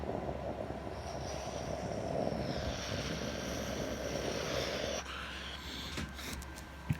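Virgin Atlantic Boeing 747 on approach to land at Los Angeles airport, a steady loud jet engine roar that holds for several seconds, then drops in level as it passes, with no talk over it.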